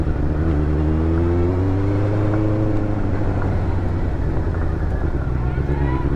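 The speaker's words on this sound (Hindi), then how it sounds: "4 सिलेंडर बाइक" Benelli 600GT inline four-cylinder motorcycle engine running, a loud steady idle with a slight rise and fall in pitch, heard close up under ongoing talk.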